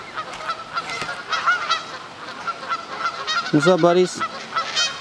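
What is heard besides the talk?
geese honking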